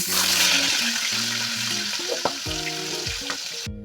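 Katla fish frying in hot oil in a wok, a steady loud sizzle throughout with occasional clinks and scrapes of a utensil turning the pieces near the end.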